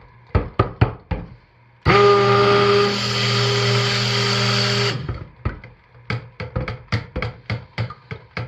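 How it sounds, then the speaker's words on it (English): A stick blender whirs steadily and loudly for about three seconds, mixing cold process soap batter of lye water and oils, with sharp knocking taps before and after. "And I will be very sparing with the stick blender."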